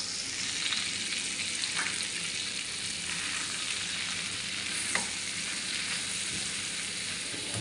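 A spoonful of flour is stirred into melted butter in a pan, giving a steady, close, fairly soft sizzle and hiss with faint scraping at the edges. The sound goes on without pause and no voices are heard.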